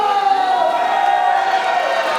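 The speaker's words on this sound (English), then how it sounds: "And this crowd is fired up for Rampage Santana, as they should be." Wrestling crowd at a Zenith City Summit match roars steadily in support of Rampage Santana, a dense, loud wash of cheering and whoops that holds throughout with a commentator's voice running over it.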